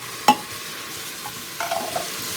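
Onion frying with green chili and ginger-garlic paste in a pan for fish biryani, a faint steady sizzle with one sharp scrape of a spoon early on and a few soft stirring knocks later.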